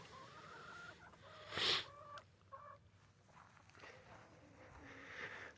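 Backyard chickens clucking close by, a few short irregular clucks and one louder squawk-like call, with brief rustling in between and no talk.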